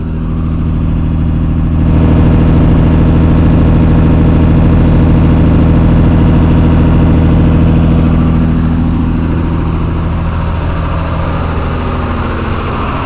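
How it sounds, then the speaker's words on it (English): A 164 car engine idles on choke while warming up, recorded close at the tailpipe: a loud, steady, low exhaust drone that holds constant for the whole stretch with a slight rise early on. "So let's listen at the tailpipe, and then I'll put the choke in once it's warm"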